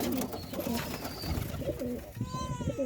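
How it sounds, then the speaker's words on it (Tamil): Racing pigeons, tumbler-type birds kept in breeding sets, coo close by in soft repeated throaty phrases, with faint background voices and loft noise mixed in. "இது எல்லாமே பந்தய புறாக்கள்"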